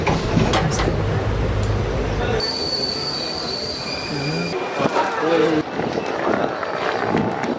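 Crowded passenger train in Konkan rumbling along the rails with clattering wheels and a high squeal, carriage noise shifting over several seconds, people talking inside.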